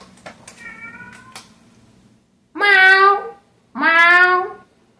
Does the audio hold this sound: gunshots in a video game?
no